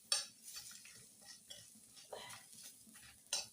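Whole spices and dried chillies are stirred in a dry kadai, giving soft scraping and light ticking of a utensil against the pan with a few sharper clinks, fairly quiet and without talk.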